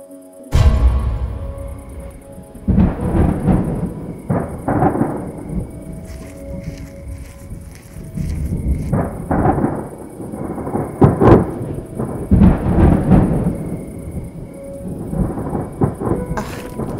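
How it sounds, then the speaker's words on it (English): A night thunderstorm rolls in heavy booming thunder cracks, several loud rumbling peaks over steady rain, with a high constant tone running through and little speech. "Wow, it's really lightning bad tonight. I completely forgot it's gonna storm all night."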